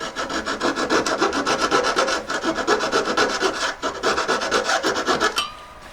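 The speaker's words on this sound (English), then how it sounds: "once you've got the hole going, it saws quite quickly" A saw blade rasps through a metal bezel collet in quick, even strokes, a close, bright rhythmic scraping that runs steadily and then stops abruptly near the end.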